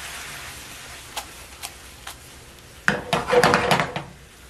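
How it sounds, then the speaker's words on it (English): Onions and wine stirred in a pan for onion focaccia, a few light utensil taps on the pan, then a louder burst of scraping and clinking near the end. "Now you want to stir this up and evaporate the wine until you have like a onion marmalade kind of consistency"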